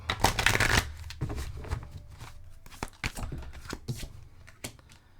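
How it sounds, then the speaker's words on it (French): Oracle cards are shuffled by hand in a quiet room, a burst of riffling followed by soft, irregular flicks and taps of the deck, close and fairly faint. "On va aller vous chercher des cartes oracles. On va en chercher 4."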